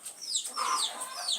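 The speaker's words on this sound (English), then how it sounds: "We have a lot of chicken around here, and some of them are laying eggs, so they always have to make noise" Chickens clucking around a home where some hens are laying eggs, a busy run of overlapping clucks and squawks at moderate distance, continuing throughout with no talk.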